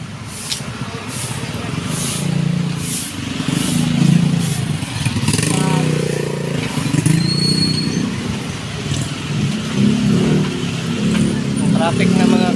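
Steady road traffic of cars and motorcycles rumbles nearby as engines pass continuously and a brief hiss like an air brake cuts in, with people talking over the traffic throughout.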